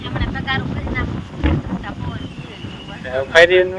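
Outdoor wind gusts buffet the microphone in uneven rushes while someone talks over them.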